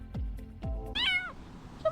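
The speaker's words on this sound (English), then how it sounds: "What is that, a raccoon? Oh, it's a cat!" A cat meows clearly, with a couple of short, sharp low sounds first, then a single bright, wavering meow nearby, followed by quiet background noise.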